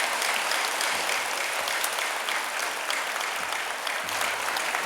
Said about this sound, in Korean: 다시 한번 큰 박수 부탁드리며 감사드리겠습니다